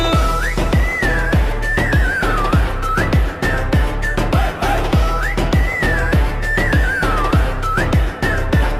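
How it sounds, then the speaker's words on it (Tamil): Shrill whistle blasts ring out repeatedly in a sliding tune over a heavy, pounding rhythmic beat, loud and close. "ஊது ஊது பலமா விசில்"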